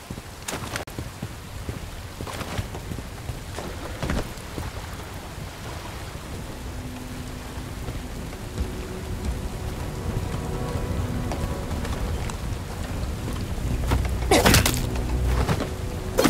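Steady rain in the first-person shooter Bright Memory Infinite pours across surfaces in a dense continuous hiss, with scattered sharper impacts and occasional low rumbles, rising slightly toward the end with no voices.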